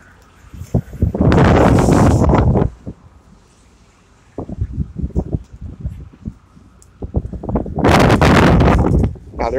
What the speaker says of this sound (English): Now there is a lot of wind.